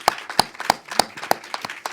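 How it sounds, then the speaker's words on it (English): Audience clapping for a film panel at a BFI Future Film event, heard as sharp, fairly sparse claps in a loose rhythm rather than a dense roar, moderately loud and with no voices. "So could I have a massive round of applause,"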